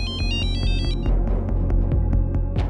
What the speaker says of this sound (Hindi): मेरे फोन की घंटी बजी थी